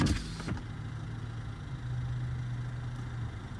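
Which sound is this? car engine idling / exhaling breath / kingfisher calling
car engine idling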